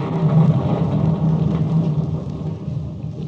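Thunder used as a sound effect in a classic radio drama rolls as a continuous low rumble, fairly loud and sustained, and eases slightly toward the end without any voices over it.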